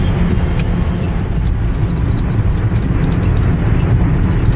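An old, worn-out car nicknamed the homeless mobile is on the road, its engine droning with a steady low rumble and road roar, loud and constant throughout, with no talking.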